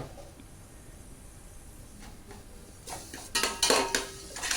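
A spoon scrapes and clinks against a vessel while salt is mixed into cooked mango rice, quiet at first, then a run of sharper metallic knocks and scrapes near the end.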